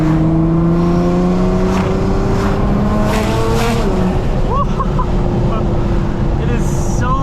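Modified 700HP Nissan R35 GTR with a turbocharged engine, loud and close, with a sustained engine drone whose pitch climbs then drops, and sharp chirping whistles near the end, all under steady wind roar.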